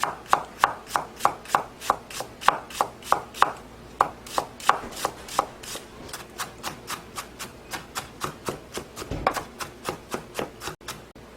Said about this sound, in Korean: 양파를 약간만 썰어주겠어요